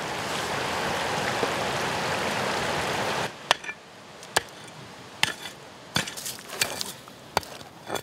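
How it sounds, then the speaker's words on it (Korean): A mountain stream in the Caucasus highlands, where gold is panned, flows as a broad steady rush for about three seconds, then drops to a quieter trickle broken by sharp knocks and clicks. "카카스 산맥의 고지대에서 바로 나는 물길"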